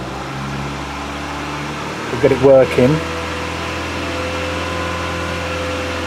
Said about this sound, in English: So if I increase the revs now